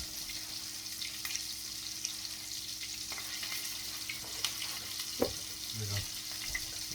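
Homemade meatballs frying in a pan of spattering grease give a steady hiss and crackle with scattered pops, close by, with faint sounds of movement and no clear talk.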